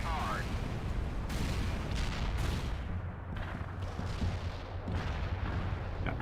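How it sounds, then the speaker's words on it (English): Artillery barrage in World in Conflict: a continuous rumble of distant and nearer blasts with several sharp impacts breaking through the dense battlefield noise, with voices talking over parts of it. "Artillery barrage inbound."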